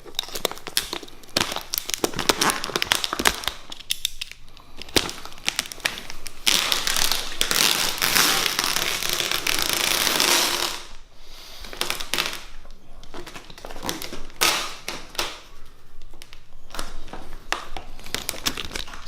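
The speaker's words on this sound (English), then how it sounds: "carefully taking our blade and just cutting that away" A blade slices through vinyl wrap on a car hood, giving dense crackly crinkling and tapping textures up close, with a louder sustained stretch of cutting in the middle.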